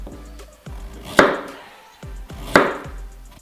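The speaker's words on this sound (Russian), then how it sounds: "И нарезаем кругляшками. Нарезаем не очень толсто, чтобы морковка успела приготовиться." A knife cuts down through carrots into rounds on a board in slow, spaced strokes, with a few sharp chopping hits among softer slicing sounds, close up.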